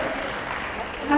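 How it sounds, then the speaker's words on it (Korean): An audience at an indoor party political gathering gives a short burst of clapping, a moderate wash of hands briefly rising at the end, with a voice faintly mixed in. "박수 한번 쳐주세요"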